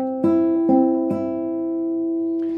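Three clear plucked classical guitar notes, fretted on the fingertip, ring out cleanly, each sustaining and overlapping before fading, with no talking.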